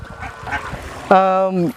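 A duck at a farm keeping Campbell and White Pekin ducks gives one loud, drawn-out nasal call near the end, after a stretch of someone talking.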